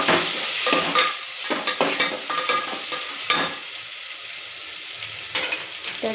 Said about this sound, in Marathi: टोमॅटो, छान मिक्स करून घ्यायचं